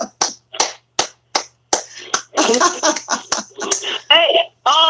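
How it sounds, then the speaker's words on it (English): A handful of sharp, separate hand claps in a slow, uneven rhythm, then lively voices and whoops take over, with more scattered claps under them. "Everybody give her a round of applause."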